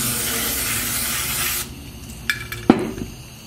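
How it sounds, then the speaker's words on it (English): Carburetor cleaner sprayed onto the needle and seat of a Holley 4160 marine carburetor: a steady, close, loud hiss for about a second and a half, then stops, followed by a few light clicks and a sharp tap. "We'll plug this little transfer hole and then just spray the needle and seat."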